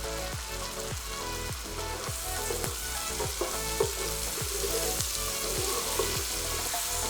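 Chopped onion fries with a little salt until browned, a constant close sizzle broken by a steady run of regular stirring scrapes against the pan, without speech.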